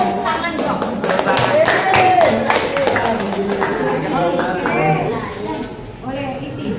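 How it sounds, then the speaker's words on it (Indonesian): A classroom of students claps during a science lesson on density, the quick irregular hand claps mixed with children's chatter and voices throughout, fairly loud and close. "tepuk tangan dong"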